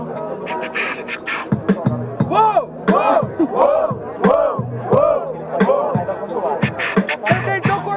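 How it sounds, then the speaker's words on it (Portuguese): Crowd at a rap battle in a student freestyle competition, a large audience roaring, shouting and cheering in rising and falling bursts for the rapper's rhymes over a steady beat. "barulhos pra quem gostou das rimas do Kaiori"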